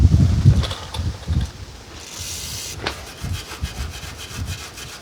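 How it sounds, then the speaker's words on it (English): A wire brush scrubs the surfaces of a rear brake caliper on a 2001 Ford F-150 with a 5.4L engine, giving close, irregular scraping strokes in uneven bursts, with no talking. "as well as a wire brush to help clean off all of the surfaces where my hardware components will go"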